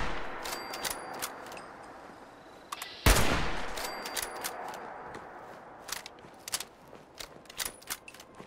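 Player gunfire in Fallout 76: a series of sharp, irregular shots, one loud close blast followed by scattered cracks over faint background noise.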